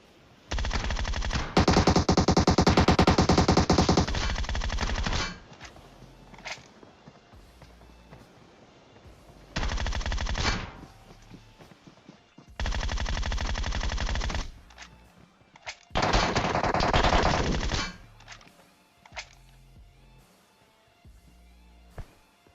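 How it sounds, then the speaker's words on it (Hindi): Loud automatic gunfire in the mobile battle royale game PUBG Mobile, several long sustained bursts separated by short pauses and quieter intervals, close and dominant with no talking. "वो है गोलियों की बर्बादी। फालतू में चलाए जा रहे हैं हम दोनों।"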